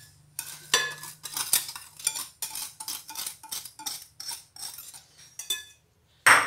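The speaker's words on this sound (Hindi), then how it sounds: "इन तमाम चीज़ों को मैं अच्छी तरह से मिक्स कर लूँगी।" Dry ingredients of flour, cocoa powder, baking powder, salt and sugar are stirred together in a bowl for chocolate cupcakes, giving a steady run of close scraping, clinking strokes with short pauses between them and no talking.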